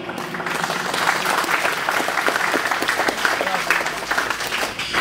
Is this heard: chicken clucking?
no